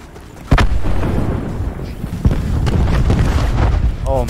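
Call of Duty Black Ops 4 Blackout match with a grenade blast booming early on and another dull thud later, amid continuous gameplay rumble and effects.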